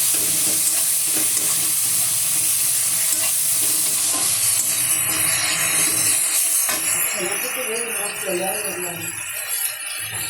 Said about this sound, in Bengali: এই যে মশলাটা কষিয়ে দিই